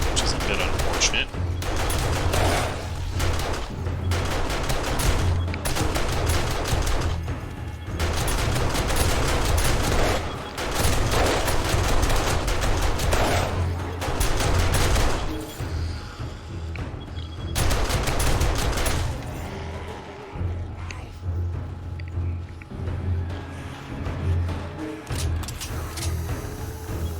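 An automated turret in 7 Days to Die fires long rapid bursts at enemies, dense machine-gun rattle in extended volleys with brief pauses, fairly loud and close, over a low droning background.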